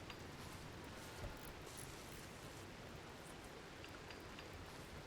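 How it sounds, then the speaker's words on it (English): Steady rain in the video game Rimworld, a soft, even hiss of falling drops with no breaks, faint and continuous throughout. "There's the rain."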